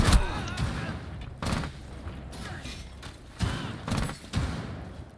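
Gunfire in Rainbow Six Siege, laid down as suppressive fire, comes as several bursts and heavy thumps spread across the moment, with a speaking voice underneath.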